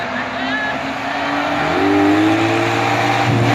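A race car engine revs during an appliance racing event at a destruction-day motorsport show, the engine note climbing loud and steady with tire noise, under excited commentary from an announcer.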